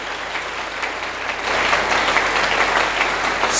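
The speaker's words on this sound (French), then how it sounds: "Est-ce que tu peux acclamer pour ce Dieu?" A church congregation at a Sunday service breaks into sustained applause, dense and loud throughout, swelling slightly partway through with a faint crowd murmur underneath.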